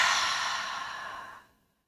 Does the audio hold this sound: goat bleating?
no